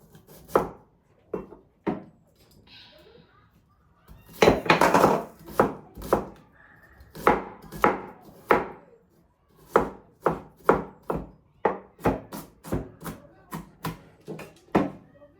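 Small onions being cut into tiny pieces with a knife for a jackfruit sundal: close, crisp blade strikes on a board, in short irregular bursts and steady rhythmic runs, with no talking.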